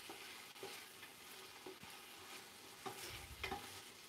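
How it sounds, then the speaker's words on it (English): Greens sauteing in a pan over moderate heat, a soft continuous sizzle with a few clinking stirs of a utensil against the pan, close but quiet, and no voices. "So I'm stirring this fairly regularly, just waiting for these to become translucent."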